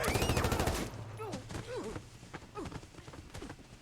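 Gunfire in a tense scene from an episode of The Last of Us TV series: a loud burst of rapid shots opens, followed by scattered sharp cracks and thuds under shouting voices.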